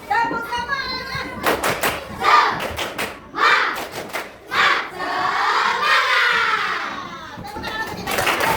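A classroom of children does a rhythmic spirit clap, with quick bursts of clapping alternating with loud chanted and shouted voices close by.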